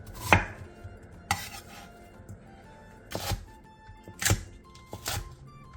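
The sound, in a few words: chopping onion, green onion, pear, cheongyang chili peppers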